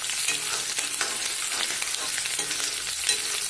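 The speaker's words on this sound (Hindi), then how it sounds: "अब सभी को अच्छे से चला लेंगे" Chopped green chillies and onion sizzle in a pan for chhole while being stirred, a continuous close frying hiss broken by light scraping strokes.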